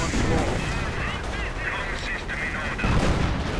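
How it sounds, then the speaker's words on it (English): Artillery and gunfire in a WWII-style strategy game come as a continuous rumbling barrage of blasts and rapid shots, loud and steady throughout, with a commentator talking over it. "Perhaps call in some artillery right there to deal with the Panzer gun"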